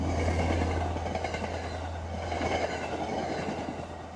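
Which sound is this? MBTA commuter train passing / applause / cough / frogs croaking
MBTA commuter train passing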